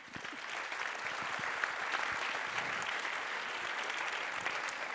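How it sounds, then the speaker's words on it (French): Steady applause from an audience filling a hall at the close of a city round-table event on economic development, dense and even for the full stretch with no voices on top. "je pense que vous méritez également les applaudissements de la salle"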